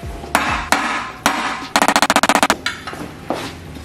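A tightly pressed crank pulley on a 5.3L small block engine is struck with loud metallic hammer blows, a few spaced hits followed by a rapid flurry of about a dozen bangs, then several slower strikes, close and sharp.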